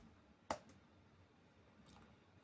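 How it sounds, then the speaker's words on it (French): A computer mouse clicks twice, one sharp click near the start and another at the end, with a faint tick in between against a quiet room. "ça fait 2 fois que je clique"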